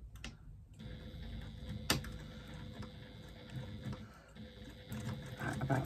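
A sewing machine runs top stitching at a long stitch length, a quiet rapid ticking patter with a sharp click near the start and faint background hum.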